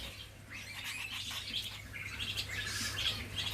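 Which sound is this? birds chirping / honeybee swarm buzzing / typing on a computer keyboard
birds chirping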